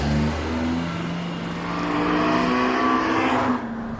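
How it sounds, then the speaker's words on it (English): Honda Civic Type R on a hot lap of the Nurburgring Nordschleife, engine loud and close as it climbs and drops through the revs with gear changes. "he takes us on a hot lap in a Honda Civic Type R"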